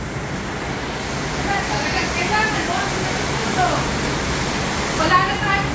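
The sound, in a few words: heavy rain pouring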